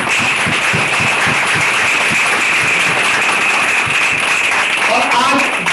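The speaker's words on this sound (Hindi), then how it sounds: "तो इसलिए आप सबके लिए एक जोरदार ताली।" An indoor office event audience claps loudly and continuously, a dense wash of applause holding steady throughout.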